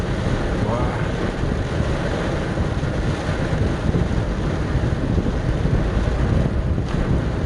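Steady, heavy rushing noise with a dense wash of rain and road spray from driving through a downpour in Busan, with flooded streets and slow traffic, continuous and loud throughout with no pauses.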